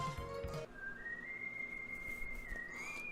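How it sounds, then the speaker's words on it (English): Proto Man's whistle from the Mega Man 7 video game: a single sustained, slightly rising whistled tune held for over two seconds after a brief burst of game sound, clear and prominent. "well, we know what that whistle is."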